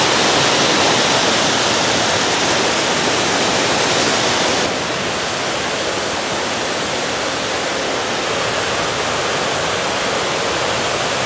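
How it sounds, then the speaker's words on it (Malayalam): A forest waterfall dropping from a great height roars as a loud, steady broadband rush, slightly softer after a shift partway through, with no voices. "ഭയങ്കര ഹൈറ്റിലാണ് ഇവിടുന്ന് വെള്ളം വീഴുന്നത്"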